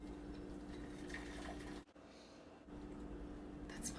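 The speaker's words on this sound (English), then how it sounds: "First step is to dissolve the gelatin in boiling water." Boiling water pours steadily into a bowl of gelatin for a frosted Jello salad, a continuous liquid splash with a brief break in the flow partway through.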